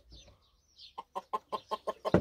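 A hen kept in a separate pen beside a Kazakh rooster clucks close by: a few soft, thin calls, then a run of about seven sharp, evenly spaced clucks that grow louder toward the end.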